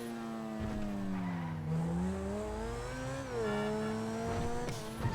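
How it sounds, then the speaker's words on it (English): A Grotti Turismo supercar, styled on the LaFerrari, revs in the GTA 5 video game, its engine tone climbing and dipping through gear changes, loud and close with brief tyre squeal. "I like the sound of this thing. It just, well, totally sounds like a LaFerrari."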